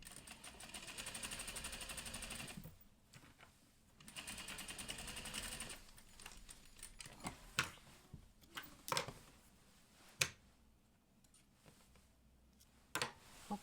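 A sewing machine back stitches a neckline seam in quick, whirring bursts, pausing between runs and giving way to soft clicks and handling noises, fairly quiet and close.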